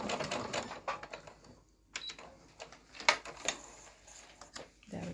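A sewing machine stitches back over a mitered corner, running in short, close bursts with pauses and light clicks between them in a quiet room.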